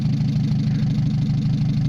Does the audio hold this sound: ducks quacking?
no